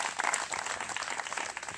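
A group at a devotional gathering at Brahma Sarovara in Kurukshetra claps in a brief, busy burst of overlapping handclaps, moderately loud and close, with no speech over it.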